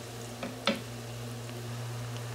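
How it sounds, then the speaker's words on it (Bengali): Kashmiri chili powder sizzles in hot oil while frying, a steady soft crackle with a couple of brief sharper pops near the start. "এখন ভালো করে ভেজে নেব।"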